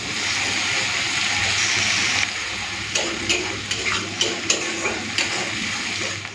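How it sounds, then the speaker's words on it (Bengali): Onion with ginger-garlic paste fries in a pan for a chicken curry, starting with a loud, steady hiss that drops away into a series of crisp scraping stirs and spattering pops. "আদা রসুন বাটাটা পেঁয়াজের সাথে খুব ভালো করে ভেজে নিয়েছি"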